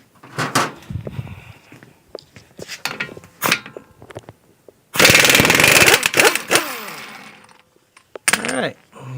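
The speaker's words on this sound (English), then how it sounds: "But I'm going to cheat and use an impact." Loud bursts of an impact wrench hammering an axle nut off a Toyota, several short rattling bursts followed by one long sustained run, close and harsh, with brief pauses between.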